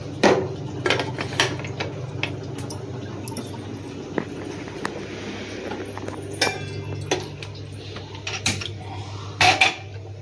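Pressure cooker holding taro root and water being handled and its lid put on, with scattered metallic clanks, scrapes and clicks of the lid and pot against a faint background hum.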